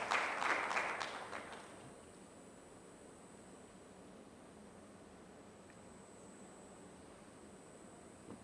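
A conference audience applauds a keynote speaker at a health research and policy symposium. The clapping is fairly faint and dies away within about two seconds, leaving a steady hiss of room noise.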